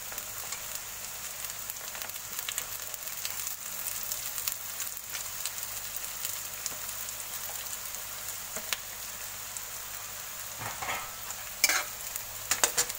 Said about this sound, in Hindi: अभी ये थोड़ा सा फ्राई होते ही ये सब क्रंची रखना है आपको, ज़्यादा फ्राई मत कीजिए